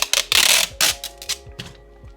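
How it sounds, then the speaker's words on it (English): Packing tape is pulled and pressed across a cracked iPad screen, giving short close ripping and crackling bursts with sharp clicks and brief pauses between strips. "So I'm gonna put some packing tape on."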